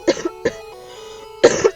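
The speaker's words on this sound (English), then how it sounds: "sorry, excuse the coughing," A few harsh coughs close to the microphone, two quick ones, a pause with a low hum, then a final pair of coughs.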